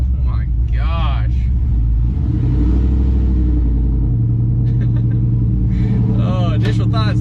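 A car engine fitted with a newly installed Chopacabra cam rumbles loudly up close. A deep, lumpy idle swells into revs and falls back, while people talk over it.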